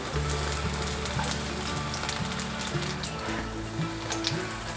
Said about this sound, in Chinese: 再煎另一个侧边，让它都站好